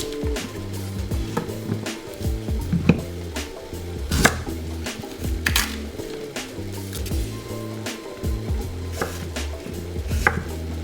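Yam, carrots, potatoes and green banana being peeled and chopped for a Caribbean fish soup: repeated close knife chops against a board, irregular in rhythm, with scraping and soft thuds and no talk.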